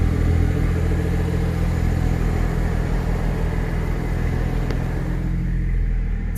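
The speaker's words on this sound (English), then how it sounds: "the car sounds great" A car engine with an MHD Stage 2+ tune idles steadily up close after a cold start, a continuous low rumble with a slightly uneven throb and no voices.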